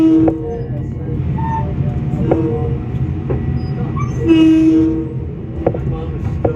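Onboard a Long Island Rail Road train bound for Ronkonkoma, the car rumbles steadily, wheels click and a brief horn blast sounds midway, while someone talks nearby.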